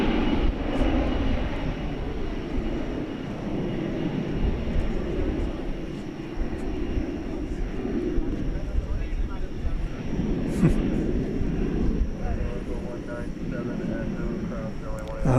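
A 21-year-old Boeing 747-400 airliner departs DFW Airport at night, its engines a steady, broad roar that fills the whole stretch at a fairly even level, with voices talking over it.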